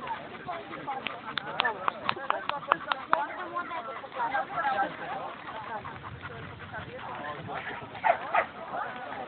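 Bull terriers bark and yip repeatedly at a moderate distance while people talk over them.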